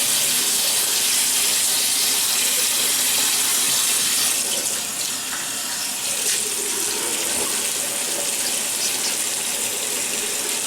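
Tap water gushing steadily into a sink to wet the face before a shave, a loud, close, continuous hiss of running water lasting throughout, with small splashing changes midway and no talking.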